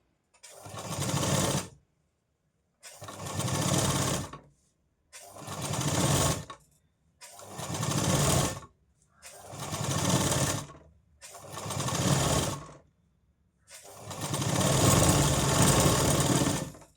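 A sewing machine stitches a half-inch seam joining the katori piece of a blouse, running in seven close, steady bursts of rapid whirring with short silent pauses between them.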